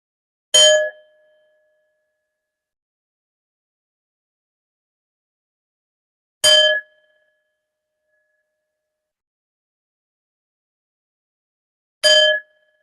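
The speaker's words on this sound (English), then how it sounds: "When you hear the bells, you will come out of the meditation" Three separate bright bell strikes, evenly spaced about six seconds apart, each ringing briefly and clearly before fading into silence.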